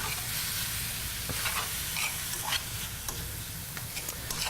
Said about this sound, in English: So that's why the constant stirring. Yeah. So you can see I cooked it on the outside pretty quickly.